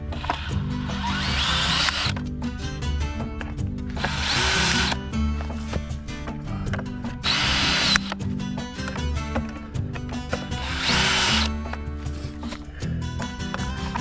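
A power drill whirs in repeated bursts as screws are driven into a Keter Darwin 6x8 tool shed, with ratcheting and clicking between runs, close by and loud.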